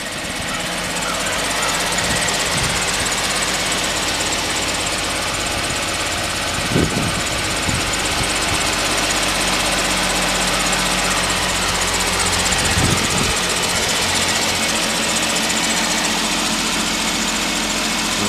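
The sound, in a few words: 2016 Jeep Wrangler Unlimited engine running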